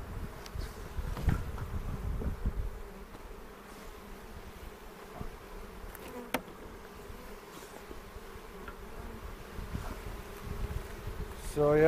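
A dense swarm of honeybees at an open hive drones steadily close by, a continuous low buzzing with no one speaking.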